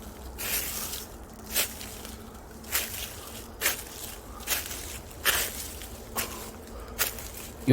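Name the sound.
footsteps in sneakers on slippery fallen leaves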